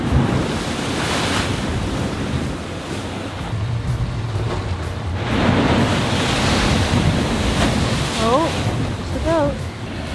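Ocean swells surging and crashing near a blowhole on a Bahamian island, a continuous loud roar of surf with heavy wind buffeting the microphone and someone speaking over it.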